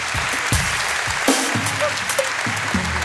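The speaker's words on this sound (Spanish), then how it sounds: "Aplauso fuerte," Loud audience applause in a comedy talk-show studio: brisk, dense clapping with scattered cheers and voices rising over it, close and energetic.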